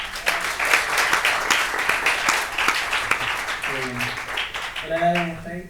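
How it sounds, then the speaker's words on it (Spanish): An audience at a talk gives a sustained round of applause, dense and steady for several seconds. Voices start talking over the clapping as it dies down. "Un aplauso para José."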